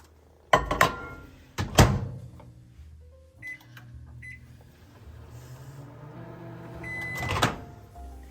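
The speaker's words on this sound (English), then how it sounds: "we're going to microwave this until it is melted" A microwave oven melting chocolate chips starts with door thunks and beeps, then settles into a quiet steady hum with a soft rattle, plus a later clunk.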